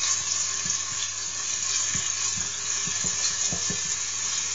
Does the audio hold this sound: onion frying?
yes